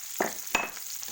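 Onion dropped into a pan of browned garlic in hot oil, giving two sharp sizzling bursts that settle into a steady frying hiss, close and moderately loud with no talking.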